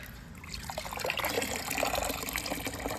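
Water pours and trickles steadily into a black plastic shopping-bag liner set in a flat black trash-to-planter base, splashing and draining continuously at close range.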